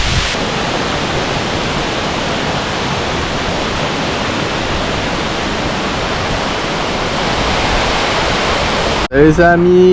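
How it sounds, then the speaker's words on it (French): Waterfall in Tahiti, French Polynesia, a loud steady roar of falling water that fills the scene without a break for about nine seconds before cutting off abruptly near the end. "plusieurs endroits où l'eau peut tomber. Regardez comment c'est magnifique."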